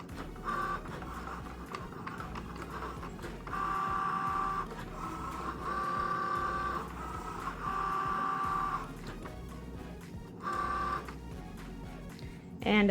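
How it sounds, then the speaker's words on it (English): A Cricut Joy cutting machine cuts smart vinyl without a mat, its motors whirring and buzzing in repeated stop-start passes of a few seconds each, with a low background hum and no talking. "you are actually able to do cuts like this on the smart vinyl without needing a mat"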